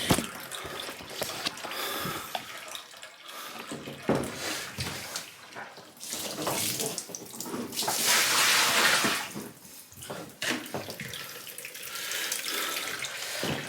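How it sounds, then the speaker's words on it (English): Water pouring from a leaking washing machine into a bucket in a laundry room, a loud irregular gushing splash that swells and fades, with occasional clunks from handling nearby. "water's pouring out, so luckily the bucket was right near me"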